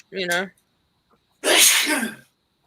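A single loud, close sneeze bursts out after a short voiced sound, then silence follows.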